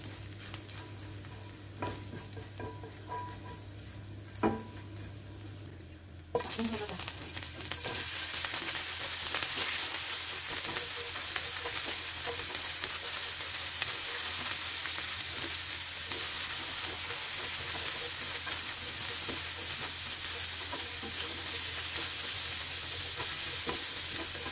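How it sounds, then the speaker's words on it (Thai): Vegetables stir-fried in a hot pan, fairly quiet stirring at first, then a loud steady sizzle that starts abruptly about six seconds in and keeps going to the end. "มาผัดผักผัดผักให้พี่ยายบานเนาะจ้ะ"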